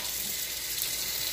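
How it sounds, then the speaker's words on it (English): Cool tap water runs steadily from a kitchen faucet over strawberries being rinsed, a continuous close hiss of flowing water with no talking. "Rinsed out with some nice cool water."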